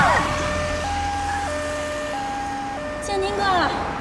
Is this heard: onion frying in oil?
no